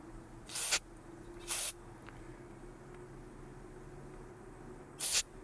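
Three short hissing bursts of an aerosol spray can are squirted onto the wires of a Toro lawnmower that won't start. Two come close together and one comes later, each standing clearly above a quiet low hum.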